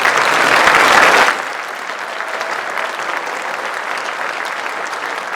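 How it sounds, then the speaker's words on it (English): Loud crowd applause for students at a high school class night, a thick burst of clapping that drops off after about a second into softer, lingering claps and room noise. "We'll give these students a round of applause."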